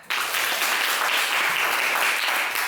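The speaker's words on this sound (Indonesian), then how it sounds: "Tepuk tangan." Students applaud together in a classroom during an Islamic ethics lesson, the clapping starting abruptly and holding as a steady, moderately loud rush of many hands until the end.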